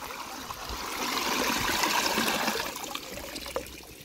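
Water gushing strongly out of a pump driven by a converted grass trimmer engine, a continuous rushing flow into a bucket that swells in the middle and eases toward the end.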